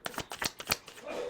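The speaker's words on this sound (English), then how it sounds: "I'm going to shuffle this one actually because it needs a good shuffle." Quick rustling riffle of a tarot deck being shuffled, a few rapid bursts close up, then a softer settling sound.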